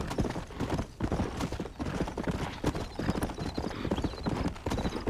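Horse hooves clip-clop in Red Dead Redemption gameplay on Xbox One, a brisk, steady run of close, sharp hoofbeats that keeps going for the whole stretch.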